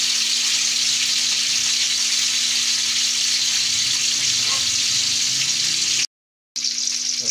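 A pork chop pan frying, a loud unbroken sizzle and crackle filling the clip, cut by a brief silent gap near the end before the sizzle resumes.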